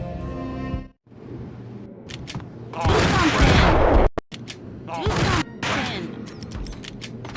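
Gunfire breaks out in the Max Payne shootout at Lupino's Hotel: loud, dense bursts of shots with crashes and brief silent gaps between volleys, while short voice fragments surface between them.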